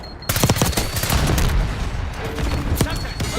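Dense bursts of AS Val rifle fire in Call of Duty, loud and close, mixed with other gunfire in the background and occasional talk over the shooting.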